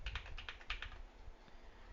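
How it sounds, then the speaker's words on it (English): Special keys on a computer keyboard are pressed in a quick run of light clicks, then the tapping stops and only faint room hiss remains. "I'm gonna try the other special keys on the right side of the keyboard now"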